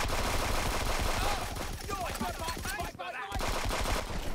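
Rapid bursts of video game gunfire crackle loudly and almost continuously, machine-gun style, with a short gap near the end before firing resumes, under intermittent talking.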